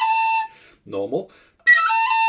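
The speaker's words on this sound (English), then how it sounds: "Now with the tripleted short roll." A tin whistle holds a clear high note, breaks for a quick tripleted short roll ornament, then returns to the sustained tone. A brief soft vocal sound falls in the gap.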